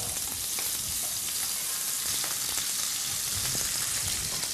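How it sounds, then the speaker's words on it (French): Minced garlic scattered into a frying pan with prawns, giving a constant close crackling sizzle with light stirring clatter and no voices. "je rajoute mon ail haché en le dispersant dans la poêle"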